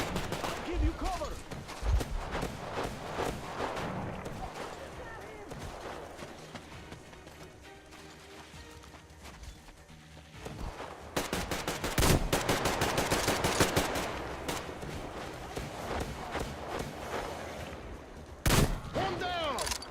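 Gunfire in Metro: Exodus, bursts of automatic shots with sharp single reports throughout, loudest around the middle and end, mixed with game sounds and people talking.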